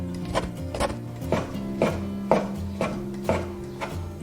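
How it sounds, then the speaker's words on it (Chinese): A knife slices soaked shiitake mushrooms into strips on a wooden board, with eight evenly spaced, crisp chopping taps close up, alongside a low steady hum. "把泡好的香菇切丝"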